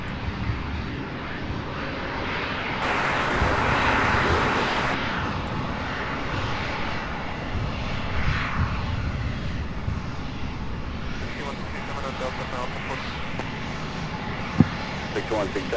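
Aircraft engines rumble and whine at Louisville's SDF airport during taxi, a broad steady roar swelling and easing over several seconds, with radio chatter heard beneath it.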